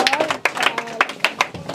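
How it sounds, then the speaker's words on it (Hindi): Scattered handclaps ring out in a few sharp, uneven bursts during a Hindi lesson, close by and irregular rather than sustained, while voices talk over and between them. "ताली बजाइए।"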